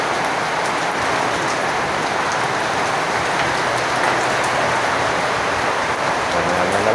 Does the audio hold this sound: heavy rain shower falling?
yes